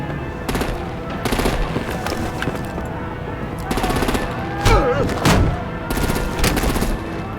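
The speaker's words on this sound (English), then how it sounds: "Break out the artillery and disable their vehicles!" Rapid machine-gun bursts and gunshots from the Telltale Batman video game crack out in repeated volleys, loud and near, with a few heavier booms mixed into a constant din of battle.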